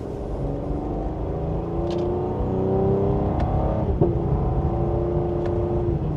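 A 2026 Cadillac CT5 V-Series pulling away from second gear, its engine note rising steadily in a smooth, moderately loud drone heard from inside the cabin, with a few faint clicks over it.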